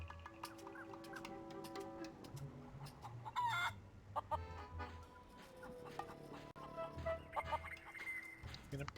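A chicken in The Curse of Monkey Island's voodoo hut clucks and squawks in short bursts against quiet game ambience, with a crowing-like call in the middle.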